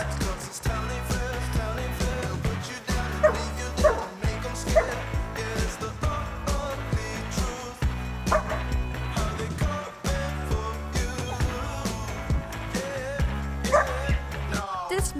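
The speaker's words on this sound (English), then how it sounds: "Fable was barking at a video of Misha on the computer" A young puppy named Fable barks again and again in short, uneven bursts at a video playing on a computer, with yips and whimpers between the louder barks at a steady moderate level.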